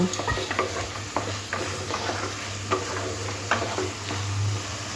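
Fried potato and eggplant are stirred into a spice paste for a Bata fish curry, giving a soft continuous sizzle with regular spatula scrapes and taps against the pan, close and without talking.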